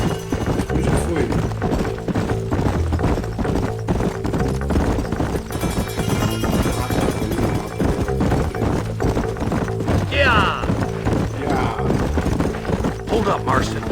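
A ridden horse in Red Dead Redemption, its hooves beating a continuous, close clip-clop rhythm for a long stretch, with occasional whinnies, game music and voices talking over it.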